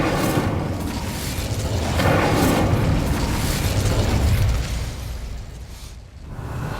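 Incendio fire spell cast in Hogwarts Legacy, a loud roaring fiery burst that swells and sustains for several seconds before fading into a softer rumble.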